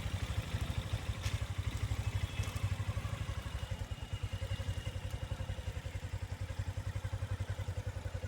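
A motorcycle is ridden along a pine forest road on the route to Lodh Waterfalls, its engine giving a fast, even, low-pitched throb that runs steadily throughout, moderately quiet and with no voices.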